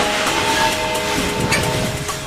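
Old French-built locomotive, later run in North Vietnam, running on a test drive in Vietnam: steady hissing, rattling rail noise with faint rhythmic clicks, close and moderately loud, no voices.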